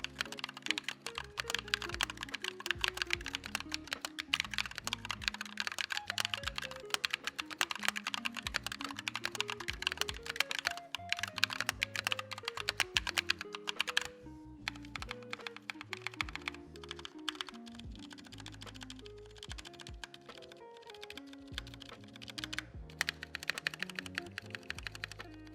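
Typing on a stock Glorious GMMK keyboard fitted with Glorious Panda tactile switches, with dense, steady keystrokes running continuously for the whole stretch, close and clear, heard alongside background music with no talking.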